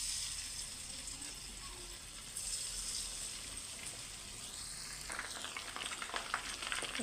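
Chicken pieces fry in hot oil in a frying pan, a soft, continuous sizzle and crackle that holds fairly steady throughout.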